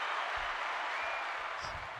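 Steady applause, a dense wash of clapping, sustained throughout with faint low voices underneath.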